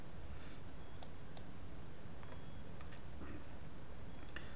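Faint mouse clicks, a few sharp isolated ticks spread over several seconds against a low steady hum, as the apply button is pressed in DJ software.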